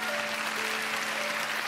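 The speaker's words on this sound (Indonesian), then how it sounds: "Yang siap mendengarkan firman Tuhan berikan tepuk tangan." Applause from a youth congregation at a church teen service, a steady even wash of clapping held throughout with a faint sustained tone beneath.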